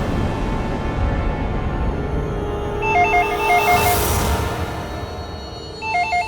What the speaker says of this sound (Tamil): ஃபோன் எடு